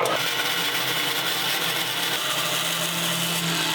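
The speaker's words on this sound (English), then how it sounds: "So let's go over to the bandsaw and do that." Bandsaw cuts a guitar fingerboard in a luthier's workshop, a continuous loud whirring drone with a steady hum and no pauses.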